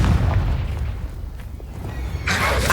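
Confringo fire spell blast in the Hogwarts Legacy video game, a deep booming explosion with rumbling low decay, followed by a brief bright burst near the end, loud and close.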